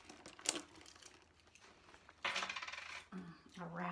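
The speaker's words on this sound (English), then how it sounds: "Some floating coins down here." Loose coins rattle and clink as a hand rummages through a handbag, with a few scattered jingles followed by a louder bout of shuffling metal and crinkling contents at close range.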